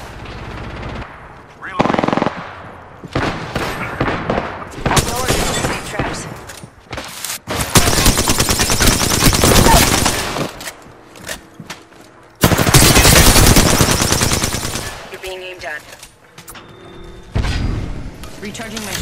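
Heavy gunfire in Apex Legends ranked play: loud automatic bursts and single shots come in clusters over nearly twenty seconds, with booms and game voice lines mixed in.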